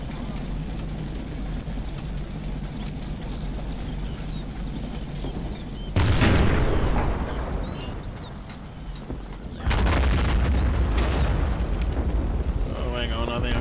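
Mortar rounds land as heavy booming explosions in the Combat Mission Fortress Italy war game, two loud blasts a few seconds apart over a low rumbling battlefield background, with a voice talking in between.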